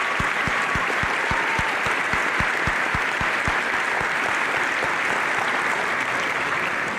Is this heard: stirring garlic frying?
no